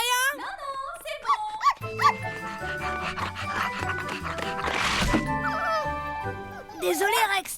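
Rex, a cartoon dog, barks in short bursts near the start and again at the end, over a busy bed of cartoon music and effects.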